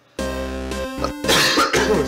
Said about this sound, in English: despite my constant coughing